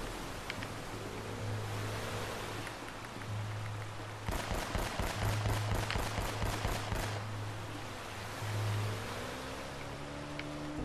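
A fast string of loud gunshots in the video game Uncharted: Drake's Fortune, heading upriver, bursts out for a few seconds over a constant rushing water ambience.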